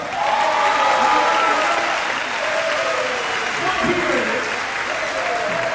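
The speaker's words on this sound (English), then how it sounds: "Let's give her a round of applause." Audience applause fills a graduation ceremony hall at East High School, a steady dense wash of clapping from a large crowd lasting throughout, with faint voices and cheers mixed in.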